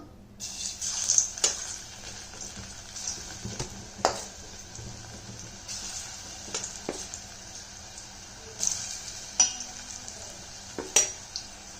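Small root vegetable sticks frying in a little oil in a pan over high heat, a low sizzle with scattered clinks and scrapes of a utensil against the pan, and no talking.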